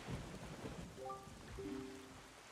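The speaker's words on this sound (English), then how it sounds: "this place suffers under dark clouds and rain" Steady rain and low rolling thunder from a stormy, cursed island in The Wind Waker HD on Wii U, a continuous wash of rainfall with a few short tonal game notes sounding over it.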